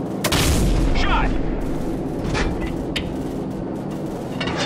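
Heavy cannon fire from an AC-130 gunship in Call of Duty 4: Modern Warfare, a few deep booming shots with sharp reports over a steady low rumble and radio chatter.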